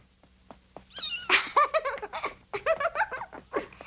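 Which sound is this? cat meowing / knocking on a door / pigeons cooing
cat meowing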